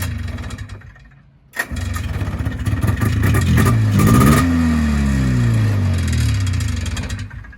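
An Arctic Cat Jag 3000 snowmobile engine, an old barn find, cranks and catches with a sudden loud roar, briefly revs, then settles into a steady, buzzing two-stroke idle close by.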